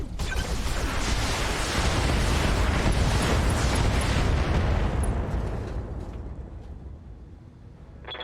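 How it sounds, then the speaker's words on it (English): Mech weapons with standard ammunition firing in Battletech, a dense, sustained roar of heavy blasts and booms that holds loud for several seconds, then gradually thins and fades. "Switch over to the normal ammo and just fire."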